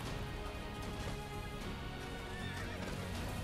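A horse neighs and gallops in the Attack on Titan Wings of Freedom video game, with steady hoofbeats and whinnies over dense, continuous game noise.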